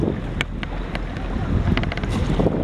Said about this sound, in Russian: Плеск волны.